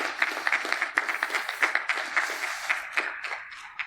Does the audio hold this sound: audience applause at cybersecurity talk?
yes